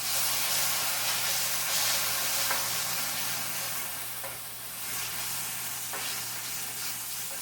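Onions and garlic frying in a pan, a close, continuous sizzle and hiss with faint stirring scrapes, steady throughout and with no voices.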